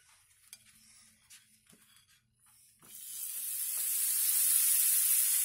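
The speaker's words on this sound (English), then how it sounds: "Look, hear that sizzle." Quiet clinks and light handling give way to a steady, rising sizzle of buttered bread toasting on a hot griddle, growing louder and continuous to the end.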